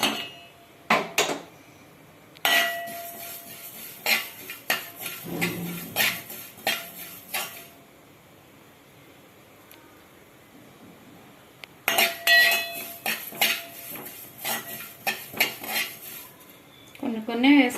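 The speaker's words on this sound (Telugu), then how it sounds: "ఇది ఇప్పుడు తిప్పితే మీకు టక్క టక్క టక్క సౌండ్ వస్తుంది" Spatula clattering against a pan while turning kaya chutney, a quick run of tak-tak knocks and scrapes in two clear bursts with a quiet pause between, close and fairly loud.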